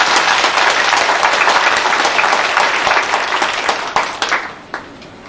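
A concert audience at a 2003 fundraising concert for an arts hall applauds loudly, a dense sustained ovation of many hands that thins into scattered claps and fades near the end.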